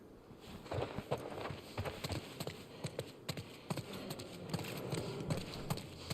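Quick, irregular hoof clip-clops from horses moving at a walk in The Last of Us Part II, over a low background hum, moderately close, with no talking.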